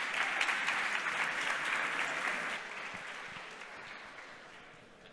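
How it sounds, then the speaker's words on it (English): An audience claps steadily at a hackathon closing ceremony in a hall, dense and loud at first, then thinning and fading over several seconds as the applause dies down. "Big round of applause"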